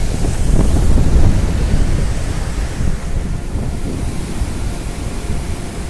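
Water released from a dam on the Brahmani river rushes in a continuous loud, broad roar, steady throughout with a gusty wind-like texture.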